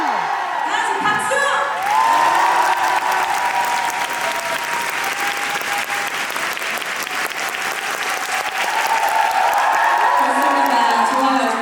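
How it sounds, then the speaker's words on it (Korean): Loud, sustained applause from a K-pop concert audience at a talk concert, mixed with cheers and whoops, with a host's voice cutting through over the top and continuing throughout. "다 같이 박수!"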